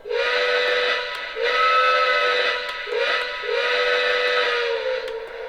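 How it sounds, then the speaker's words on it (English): A Lionel Rock Island 2-6-0 Mogul model train sounds its steam whistle in four close, loud blasts of differing length, a bright chord-like hoot with short gaps between, alone with no speech. "And here is the engine's whistle."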